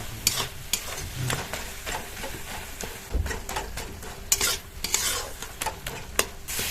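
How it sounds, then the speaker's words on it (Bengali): Boiled tomatoes being mashed with a spatula in a pan for a Bengali tomato garlic bharta, giving repeated scraping and squishing strokes at an irregular rhythm over a faint sizzle, close and fairly loud. "এবার খুন্তি দিয়ে এইভাবে গালিয়ে নেব"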